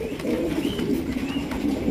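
Red Nun pigeons coo in low, soft repeated murmurs close by, a continuous throaty rumble with faint higher chirps above it and no talking.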